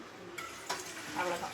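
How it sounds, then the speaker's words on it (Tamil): A pot of tamarind-water fish curry with sardines bubbles and simmers, a soft continuous hiss with small pops and a brief clink, close and fairly quiet. "புளி தண்ணி வந்து நல்லா கொதிச்சிருச்சு."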